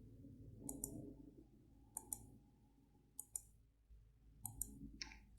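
Quiet, crisp mouse clicks come in small clusters while points are selected in GeoGebra, over faint low background hum.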